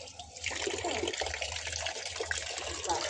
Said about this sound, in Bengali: এখন সব ভিজাবো, ভিজিয়ে তারপরে কাচবো